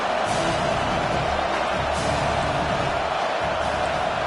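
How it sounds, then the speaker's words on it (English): A college football stadium crowd roars in a dense, sustained wall of noise that fills the whole stretch, loud and unbroken, with faint announcer talk beneath it. "Listen to this crowd just shaking the girders of this place trying to help their defense."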